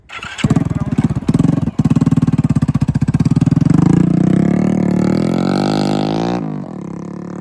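A loud Hero Splendor motorcycle with a modified metal-pipe exhaust silencer revs and rumbles close by, popping at first, then rising into a sustained roar with a sharp, rasping exhaust note before easing off.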